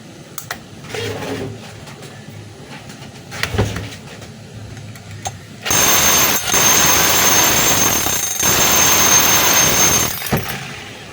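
A DeWalt D25032 rotary hammer drill hammers in a loud, steady burst lasting about five seconds, after a few quieter knocks and handling sounds, with no talk.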